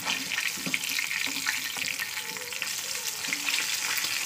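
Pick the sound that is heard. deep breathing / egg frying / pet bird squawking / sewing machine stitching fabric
egg frying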